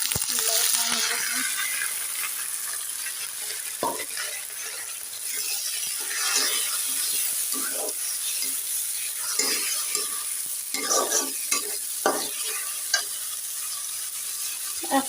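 Raw rice stirred into onions and green chillies frying in oil for khichuri, a steady sizzle with repeated scraping and knocking of a spoon against the pot, close and busy, no speech.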